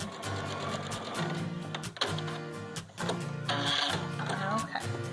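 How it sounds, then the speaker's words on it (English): Baby Lock sewing machine joining two pieces of fabric, a close, continuous mechanical whir with small pauses and clicks, running under someone talking. "I'm basically sewing the two pieces of fabric together."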